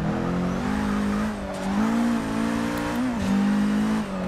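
A race car in the racing game Forza Motorsport 6 accelerates hard, its engine note climbing, dropping with each gear change and climbing again, loud and continuous with faint tire squeal and no talk.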